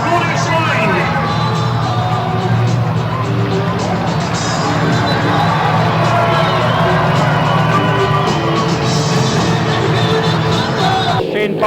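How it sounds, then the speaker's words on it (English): Home crowd at a speedway meeting cheering and applauding loudly and continuously, a dense roar of voices and clapping with speech babble mixed through it, cutting off near the end. "he'll make his way round to a rapturous round of applause from the home fans"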